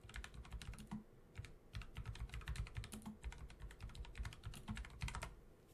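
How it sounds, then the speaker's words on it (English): Rapid, continuous clatter of typing on a computer keyboard, close and fairly quiet, with irregular bursts of keystrokes and no talking. "I know you can hear my keyboard."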